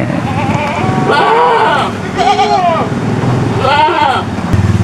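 Goats in a raised livestock pen in a rural village near Semarang bleat three times in wavering, nasal cries spaced about a second apart. The sound is close and clear over wind noise and faint background chatter.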